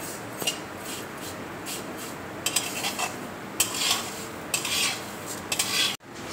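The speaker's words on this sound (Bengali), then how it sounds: "সেমইটা দেখো ভাজা হয়ে গেছে" Semai vermicelli is fried and stirred in a pan: repeated scraping and rasping strokes of a utensil over a continuous low frying hiss, close and fairly loud.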